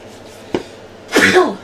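A single close, sharp sneeze bursts out loudly near the end, after a brief throat noise, in a quiet indoor setting.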